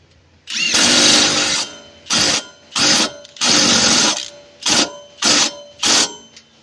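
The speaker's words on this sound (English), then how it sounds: "Get your 18 millimeter, and we're gonna tighten that bolt back." A power tool, likely an impact wrench, tightens an 18 mm ball joint bolt on a 2017 Dodge Charger, loud close whirring bursts, one long, then several shorter ones with brief pauses between.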